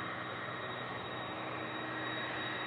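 A Cirrus light aircraft departs from Dallas Fort Worth airport, its engine a steady, loud, continuous roar that holds constant throughout with no voices over it.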